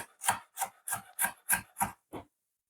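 A knife chops through green bell pepper on a cutting board in seven crisp, evenly spaced strokes, each a short close crunch, with the last one softer before silence.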